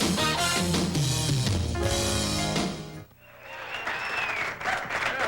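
A crowd at a televised bowling match applauds loudly and steadily, then the applause fades as music and background sound take over.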